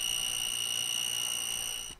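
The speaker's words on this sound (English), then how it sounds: "It also indicates voltage via an audible alarm." A Testo 745 non-contact voltage tester sounds its audible alarm, a steady, piercing high-pitched electronic tone that holds for about two seconds and then cuts off.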